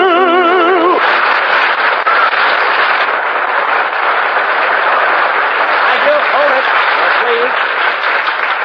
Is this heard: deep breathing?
no